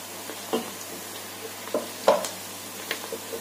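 Onions frying in a pan with a steady close sizzle, broken by a few light scrapes and clacks of stirring.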